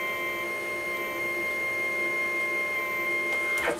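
A CNC machine running under Mach3 control raises its Z axis with a steady motor whine and tonal hum, swelling into a brief louder burst at the very end, with no talk.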